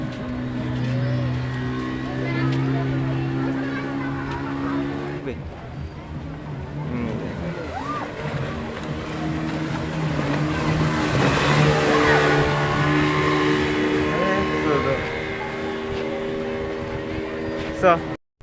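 A speedboat runs on the water at Safina Park in Rajshahi, its engine droning and rising in pitch as it accelerates, heard at middle distance beneath people talking.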